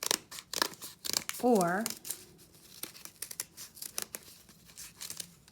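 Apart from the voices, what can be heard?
cutting paper flower shapes with scissors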